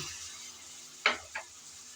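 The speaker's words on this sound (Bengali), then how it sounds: "মটরশুঁটি দিয়ে আবারও একটু নেড়ে চেড়ে ভেজে নেব" Carrots and peas frying in a pan, a soft steady sizzle broken by two quick stirring scrapes close together in the middle.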